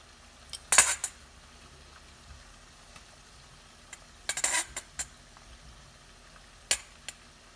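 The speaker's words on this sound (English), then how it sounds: "So we take our salmon, place it in the pot." Salmon set into a cooking pot for salmon gravy, heard as a few brief clinks and knocks of metal and dishware, with a quiet stretch between them and faint kitchen background.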